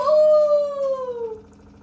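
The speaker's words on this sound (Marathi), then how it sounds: "तर कुत्रे पण धरले ओरडायला" A dog lets out a single drawn-out howl that slowly slides downward and fades, close and clear, with a low rhythmic mechanical hum running underneath.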